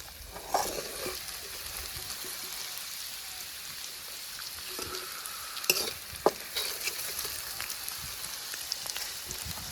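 Kenduri fruit fries in oil in an outdoor riverside cooking pot, giving a steady, moderately faint sizzle with occasional stirring clicks and scrapes and no talking.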